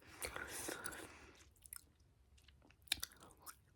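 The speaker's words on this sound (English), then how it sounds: "Gum Chewing" Soft, close-up gum chewing for ASMR, with quiet wet clicks and crunchy bites spread unevenly through the clip and a faint whispered voice near the start.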